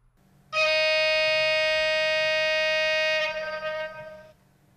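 Low-pitched signal horn of an ESU V60 H0 model shunting locomotive, a single loud steady tone held for nearly three seconds before dropping into a short decaying tail.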